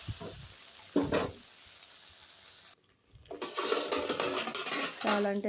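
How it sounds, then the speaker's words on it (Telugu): Okra pieces fry in a pan while being stirred, a broad sizzle with scraping spoon strokes and clinks against the metal, broken by a short quiet gap before the frying noise returns louder. "మధ్యలో కలియబెట్టుకుంటూ బెండకాయలు బాగా ఫ్రై అయ్యే విధంగా వేయించుకోవాలండి"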